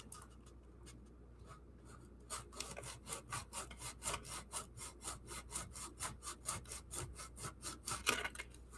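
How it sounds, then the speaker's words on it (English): Sandpaper rubbed back and forth on wood in a steady series of close, raspy strokes, roughly two per second, with a short quiet pause before the rhythm starts. "You got to work with your sandpaper too"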